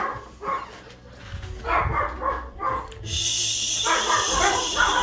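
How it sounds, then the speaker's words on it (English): Several dogs barking and whimpering indoors in a house, sharp barks recurring through the moment, close and fairly loud, with a person shushing them and a steady high hiss in the background. "Why are you barking?"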